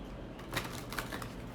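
Oracle cards are shuffled by hand in a brief, quiet burst of soft papery riffling and flicking, a few quick card slaps close to the microphone.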